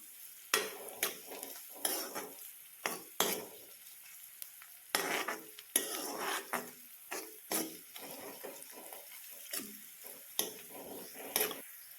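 Cowpea leaves with coconut and onions are stirred and sautéed in a pan, a faint sizzle broken by irregular scraping strokes and clinks of a utensil against the metal.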